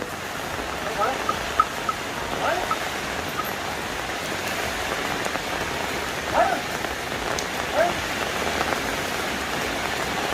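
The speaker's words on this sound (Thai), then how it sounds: "เสียงฝนค่ะเสียงฝน" Steady rain patters on surfaces close by, a constant hiss with a few faint chirps poking through.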